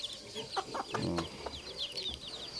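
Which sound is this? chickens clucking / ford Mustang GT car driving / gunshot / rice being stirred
chickens clucking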